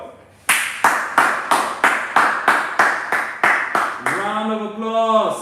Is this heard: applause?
yes